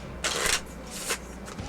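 A new, smooth deck of playing cards riffle shuffled, giving two loud, brief bursts of rapid fluttering card slaps and then a fainter third, close up and with no talk.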